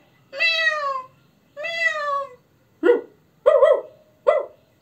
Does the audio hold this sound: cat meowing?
yes